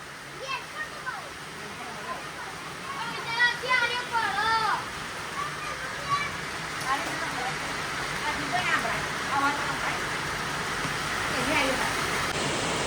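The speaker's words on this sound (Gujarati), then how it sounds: "ભર ઉનાળે વરસાદ ચાલુ થઈ ગયો" Steady summer rain with hail hisses outdoors as a broad, even wash of noise, with people's voices and someone talking faintly over it.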